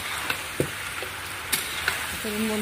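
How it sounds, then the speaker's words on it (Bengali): Vegetables sizzle and crackle steadily in a hot pan, with a few sharp clicks of stirring as water is poured in. The frying hiss is fairly close and continuous, with no voices. "বন্ধুরা, আমি এবার এর মধ্যে জল দিয়ে দেবো।"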